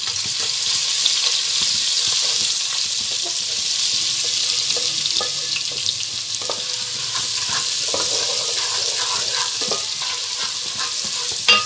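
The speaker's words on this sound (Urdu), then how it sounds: "اس کو ہلکا سا فرائی کریں گے۔" Garlic-ginger paste and green chili paste frying in a pot, a continuous bright hiss of sizzling with light stirring scrapes, steady and close throughout.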